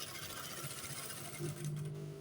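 A sewing machine stitching trousers, its fast steady needle chatter running continuously at close range, fairly quiet, with a slight change in tone near the end.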